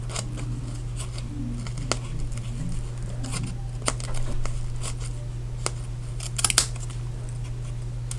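Scissors trimming excess paper from a handmade stamped card, a series of close crisp snips spread irregularly over several seconds against a low steady hum, with soft paper rustles.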